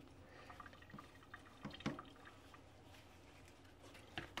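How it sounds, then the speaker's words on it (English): Water drips and splashes softly as a polycarbonate face shield is rinsed and washed with a detergent rag, with small irregular wet splats and trickles close by. "We're going to rinse it, we're going to wash it with the detergent rag"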